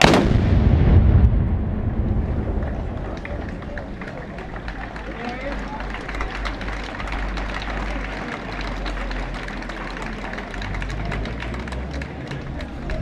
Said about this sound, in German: Die Kanonen, Achtung! Zum Salut, Feuer!